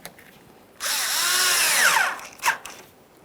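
Power driver tightening a radiator hose clamp on a 1994-2001 Dodge Ram 1500 5.2L V8, one loud sustained high whir of about a second with rising pitch, then a short second burst, close up with no talk.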